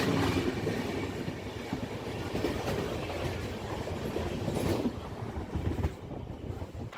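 Burdwan–Howrah local train running non-stop past stations, a steady loud rumble of wheels and carriage noise with faint clickety-clack throughout, heard from on board with some wind buffeting.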